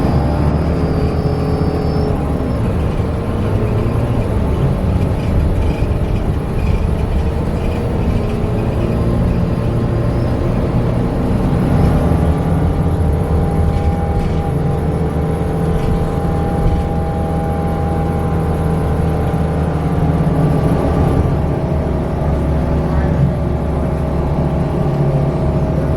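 Interior ride on a Samtrans 112 bus, a steady engine drone and whir with road rumble throughout, constant and moderately loud with no one talking.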